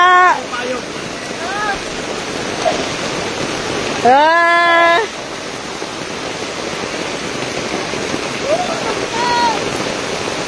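Heavy rain pours steadily during a typhoon, a dense wash of noise running through the whole stretch, with people shouting and talking nearby over it.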